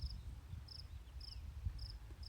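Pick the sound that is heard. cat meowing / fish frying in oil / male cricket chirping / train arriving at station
male cricket chirping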